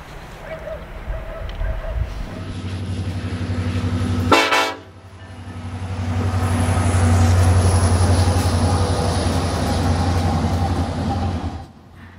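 Freight trains rumbling along the rail line between Irapuato and Salamanca, a loud steady roll of wagons with a brief sharp horn blast partway through, then the heavy rumble swelling and holding before fading near the end.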